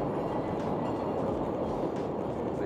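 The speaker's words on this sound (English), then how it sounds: "Oh, the train's there now." A train passes through an urban setting as a steady, loud rumbling roar that holds constant without a break, with no voices over it.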